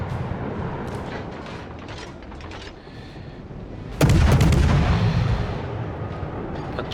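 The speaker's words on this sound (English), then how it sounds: "So I decided to smoke up and try to do some blind firing into" Naval guns on a warship in World of Warships fire blind into a smoke screen, with a heavy booming salvo and a long rumbling roll following softer distant gunfire, all without talk.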